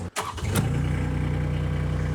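An Avant compact loader engine cranks briefly, catches with a short burst and then settles straight into a steady, throbbing idle close by, with no talk over it.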